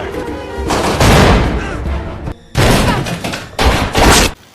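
Gunfire in a shootout at a suspect's house, with loud bursts of shots in dense clusters separated by brief pauses, up close and filling the scene.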